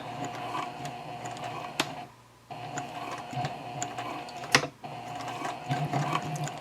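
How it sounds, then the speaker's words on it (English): A domestic sewing machine stitches a quarter inch from the top edge of a zippered key fob coin pouch, with quiet close whirring runs broken by a short pause and sharp clicks, recorded indoors. "I'm just sewing 1/4 of an inch away from the top edge here"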